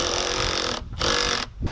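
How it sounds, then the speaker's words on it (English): Power drill boring through stacked wooden leg pieces for a craft table, a steady whirring drone broken by two brief pauses between bursts. "drilling them together so they will be double thickness"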